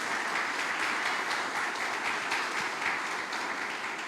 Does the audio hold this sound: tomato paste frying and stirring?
no